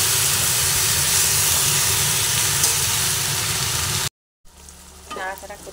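Malabar spinach and spices sizzle and hiss loudly as they are stirred in a hot pan, a dense continuous frying sound that cuts off abruptly, followed by quieter background noise and a brief voice.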